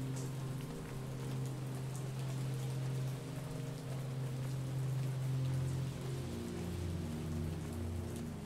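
Steady realistic rain falling on surfaces in a pixel-art game, a soft continuous hiss with a low droning tone beneath, fairly quiet and unbroken.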